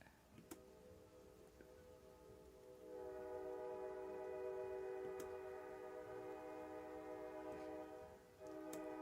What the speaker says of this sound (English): I know the train is coming on through.